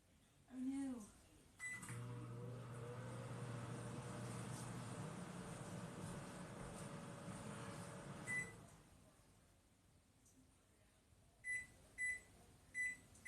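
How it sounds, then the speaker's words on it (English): A microwave oven hums steadily while heating water for mashed potatoes, running for about seven seconds after a voice and a door sound, then stopping, followed by a series of short completion beeps. "So let me pop my water in the microwave"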